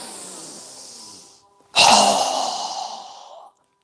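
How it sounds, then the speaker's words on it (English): A strong, forceful exhale during a yoga breathing exercise, a loud breathy rush that starts abruptly and tapers over about two seconds, following a softer inhale and heard alone with no talking. "Strong exhale again."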